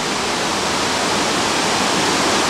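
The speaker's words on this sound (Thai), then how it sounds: "เราก็มาส่วนหน้าของน้ำตกคลองลานแล้วนะครับ" The Khlong Lan waterfall in Thailand roars as a steady, dense rush of falling water, loud and close with no pauses or voices.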